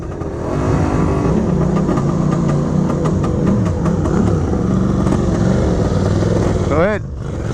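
A 1978 Yamaha DT400 motorcycle engine running close by, a loud steady two-stroke drone with slight revving wobbles, then a brief blip before it drops away, with people talking nearby.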